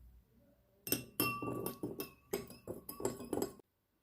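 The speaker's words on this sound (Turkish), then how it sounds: "Şimdi bu altı mor olan bardağa biraz şeker ekleyip karıştırıyorum." A spoon stirs sugar into water in a glass, making a close, quick series of bright clinks against the glass that stop abruptly after about three seconds.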